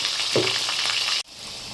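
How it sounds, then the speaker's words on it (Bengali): Potatoes frying in oil with turmeric, a steady close hiss of bubbling oil with a short scrape or stir near the start and a sudden brief drop before the sizzle resumes, no voices. "সামান্য হলুদ দিয়ে ভেজে নেবো, তাহলে আলুটা দেখতে বেশ লাল লাল লাগবে"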